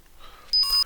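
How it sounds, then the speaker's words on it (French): A micro:bit simulator alarm sounds a single short, high electronic beep, clear and steady against a quiet background. "on a l'alarme qui se déclenche"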